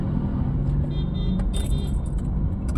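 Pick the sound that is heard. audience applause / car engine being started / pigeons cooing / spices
car engine being started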